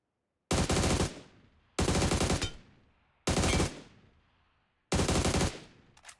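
Four separate full-auto bursts from a weapon in PUBG Mobile, each lasting about half a second, loud and close, with short decaying tails and clear pauses between bursts.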